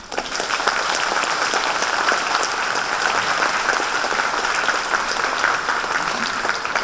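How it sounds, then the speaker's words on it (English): Sustained audience applause for translators at a talk on transmuting pain into bliss, a thick even wash of many hands clapping from nearby throughout. "we should all show our gratitude with a round of applause for our"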